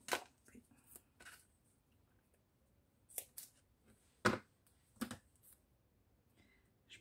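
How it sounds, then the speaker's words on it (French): Scissors snipping paper for a decorated craft envelope, a handful of short, crisp cuts spaced irregularly and close up in a quiet room. "Les ciseaux qui sont là."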